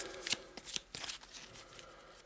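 A deck of lair cards from a horror-themed tabletop board game being shuffled by hand, a couple of quick riffling bursts followed by softer sliding and tapping of the cards, close and fairly quiet with no talk.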